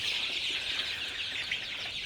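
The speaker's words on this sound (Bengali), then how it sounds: "লম্বা সোনালি সুপার হাইব্রিড মুরগির বাচ্চাকে আমি মাত্র পানি দিলাম" Sonali super hybrid chicken chicks in a poultry shed, just given water, fill the air with a continuous chorus of high, thin peeping, fairly close and steady.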